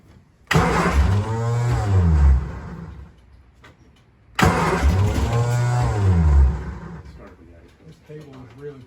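A 1966 Triumph Spitfire Mk II engine cranks in two long bursts, each turning over for about two and a half seconds with a short silent gap between them. It struggles to catch and never starts.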